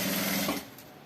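A sewing machine runs close up in a short steady burst, stitching a zipper edge-to-edge onto a two-in-one backpack, then the motor winds down.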